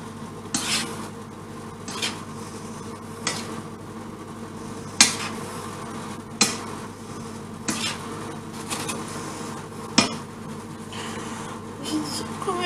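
Pots of hutspot cooking on a gas stove, with a steady low hiss and hum under repeated sharp clinks and knocks of utensils against the pots every second or two, and a voice faintly present.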